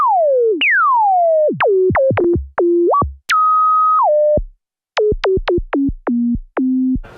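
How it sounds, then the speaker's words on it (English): Pure, whistling electronic tones from a Moog Minitaur synthesizer's filter used as a sine wave oscillator swoop down in pitch, then a run of short plucky blips with falling pitch, loud and clean with no other sound. "I can actually use the filter as a sine wave oscillator"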